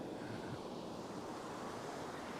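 Ocean surf breaking steadily on a beach where someone is fishing, a continuous loud wash of waves with wind noise across the microphone and no voices.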